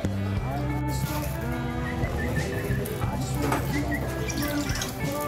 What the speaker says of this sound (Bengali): রেস্টুরেন্টে কত পাখি